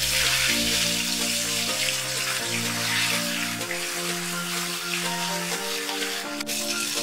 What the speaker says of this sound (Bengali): এবার বাটা মাছটা ভেজে তুলে নেব। বেশি লাল করে ভাজবো না, হালকা লাল করে ভেজে তুলে নিচ্ছি।